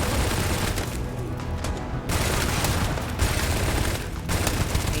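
Gunfire in Starfield, dense and rapid shots crackling almost continuously at close range, with brief pauses between loud, sustained bursts.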